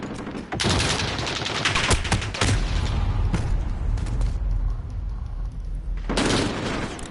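Gunfire in a video game: bursts of automatic shooting with booming reports, loud and close, broken by brief pauses before the firing starts again.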